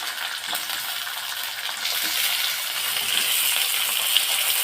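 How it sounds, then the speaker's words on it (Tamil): Chopped tomatoes sautéing with onions and green chili in a pan for a bitter gourd gravy, giving a steady, close hiss of frying that grows slightly louder over the clip, with no talking. "தக்காளியும் ஆட் பண்ணிட்டேன் நல்லா வதங்கணும்"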